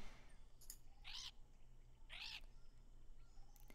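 A parrot in a video game gives two short, bright chirping calls about a second apart, faint over a low steady background hum.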